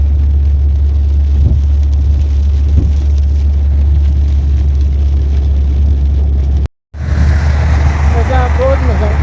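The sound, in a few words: heavy rain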